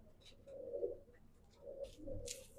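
A racing pigeon coos softly in a few low, throaty phrases, faint and close, with light rustling and brief chirps around it.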